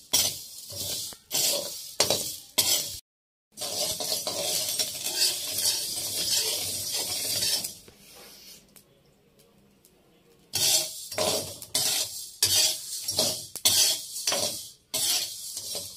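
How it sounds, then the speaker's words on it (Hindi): Radish, carrot and green chili roast in a pan, giving a loud, steady sizzle broken by stirring clinks and scrapes, with short pauses and one quieter stretch midway. "तो इनको हम यहाँ पे भून लेते हैं। इनको हल्का ब्राउन करेंगे इनको।"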